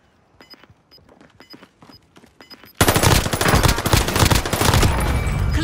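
Rapid automatic gunfire in Call of Duty: Modern Warfare, a few quiet shots and footsteps first, then a sudden loud, sustained burst of close firing that continues to the end.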